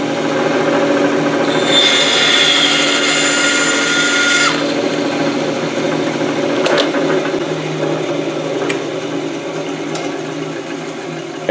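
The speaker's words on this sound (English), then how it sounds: "Give it a little cut." A power tool cuts a pen blank clamped in a sizing jig, a loud steady whine with a brighter burst of cutting for the first few seconds, then a lower running hum for the rest with a couple of faint clicks.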